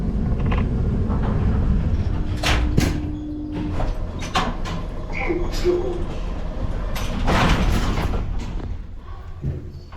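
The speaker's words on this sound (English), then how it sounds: "Doors opening." Lift doors slide open on a modern elevator, a low rumbling glide with a couple of soft thuds, heard close amid steady background hum and faint voices.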